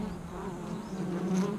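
Bees carrying pollen on their legs buzz steadily and close by, a continuous low hum with slight swells in pitch and no voices.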